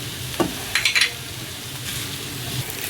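Filling with ketchup, hot sauce and mayonnaise cooks in a pan, a soft, steady sizzle with a few short scraping stirs of a utensil against the pan.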